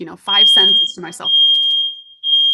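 A home fire alarm lets out a high-pitched, sustained electronic tone that persists and repeats, first sounding under a woman's speech and then continuing alone as the talk stops.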